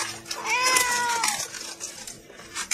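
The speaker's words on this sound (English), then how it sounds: "But you mean you brought a cat with you?" A single cat gives one clear, drawn-out meow close by, followed by quiet background noise.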